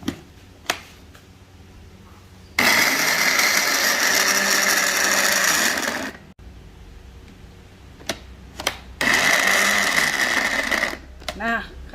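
An electric blender grinds coriander, salt and sugar for sate maranggi in two loud bursts of harsh whirring, each lasting a few seconds, separated by quiet pauses with small clicks and handling noises.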